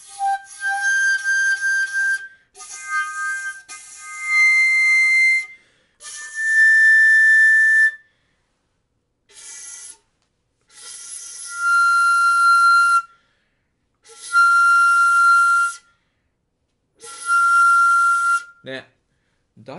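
An 8-sun shakuhachi bamboo flute sounds sustained breathy tones in the low register, several long phrases separated by short pauses, close and fairly loud, with no talking.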